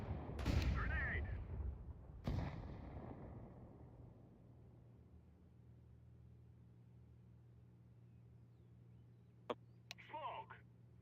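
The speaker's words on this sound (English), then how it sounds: "Throw in the flashbang." A flashbang grenade in Counter-Strike on FACEIT, two sharp loud bangs near the start with ringing decay, a steady tonal ring afterward, later a couple of faint clicks and brief game sounds.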